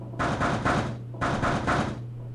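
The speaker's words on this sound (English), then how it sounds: "Why are you knocking on the door if it didn't fucking open" Two bursts of knocking on a door in the game 999, each a quick run of three or four raps, fairly close and clear over a low steady hum.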